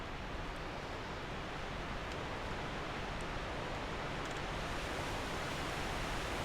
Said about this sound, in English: Now we get to listen to the noise of this freaking waterfall.